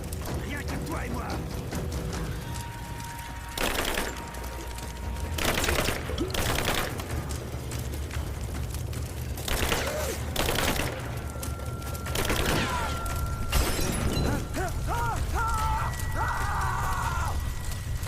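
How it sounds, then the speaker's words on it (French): Bursts of automatic gunfire and explosions from the Rise of the Tomb Raider video game, repeated over a steady background of game noise, with a voice speaking at times. "Je subis des tirs."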